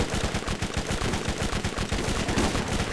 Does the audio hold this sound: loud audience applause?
no